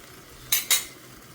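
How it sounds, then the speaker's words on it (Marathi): A spatula sautés ingredients in a pan for dried-prawn pulao, giving two short, bright metallic scrapes in quick succession over a quiet kitchen background. "हे बघा मस्त असं परतून घेते मी"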